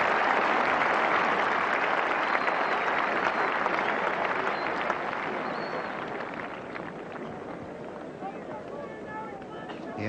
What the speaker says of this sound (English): Cheers for Ian Botham around the ground